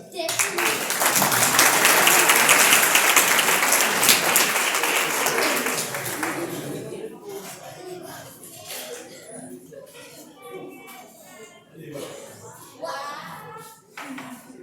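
A crowd at a chemistry science show in Durban, South Africa, claps loudly for about six seconds. The applause then fades into scattered claps and nearby chatter.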